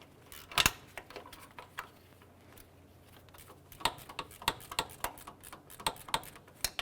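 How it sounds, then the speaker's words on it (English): A 12mm gear wrench loosening a nut on the power steering pump of a 2001-2005 Honda Civic: a run of close, crisp ratcheting clicks, a single loud click early on, then quicker, irregular ticks. "Using a 12mm gear wrench, we're going to go ahead and loosen this nut right here on the power steering pump."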